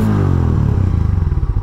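A Harley-Davidson X440 motorcycle engine starts and settles into a close, loud, thumping idle with a quick, even pulse.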